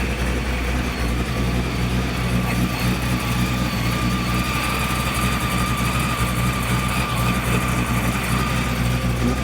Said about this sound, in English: How's that Pro Charger whine?